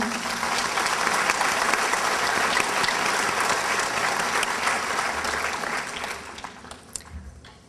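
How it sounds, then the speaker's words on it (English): A crowd at a Manatee Technical Institute dedication ceremony gives sustained, loud applause that holds steady, then thins out and fades near the end. "Let's give them all another round of applause"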